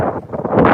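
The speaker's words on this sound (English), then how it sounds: "The breeze, the wind's blowing" Wind gusting by the seaside on a coffee walk in the Philippines, a close rumbling buffet of air against the mic that rises and dips, with no voices.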